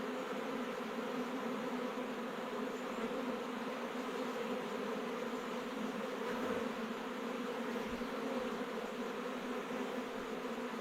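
Honey bees buzz around comb exposed in a tree trunk that fell in a storm, a steady, dense drone of many insects close by, unbroken for the whole stretch.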